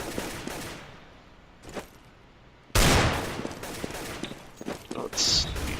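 An AK rifle fires in a Counter-Strike match. A sharp, loud burst of gunfire breaks out partway through and is followed by a few more quick shots against quieter game ambience.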